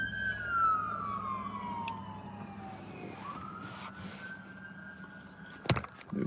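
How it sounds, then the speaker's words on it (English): An ambulance siren wails in a long falling sweep that then rises again, moderately distant and passing by on the Cape Breton, Nova Scotia coast at sunset, with a brief knock near the end. "We have an ambulance going there."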